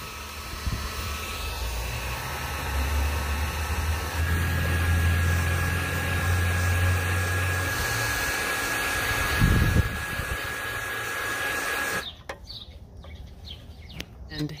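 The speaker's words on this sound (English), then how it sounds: "So it's going to heat shrink it around there." A heat gun shrinks heat-shrink tubing onto a wire tip, blowing with a steady, moderately loud whirring hiss for about twelve seconds before it abruptly shuts off.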